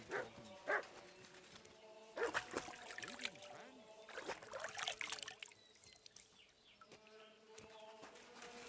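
Dog barking in the video game Kingdom Come: Deliverance II, several short barks at intervals with faint insect buzz and background ambience, a voice speaking briefly nearby.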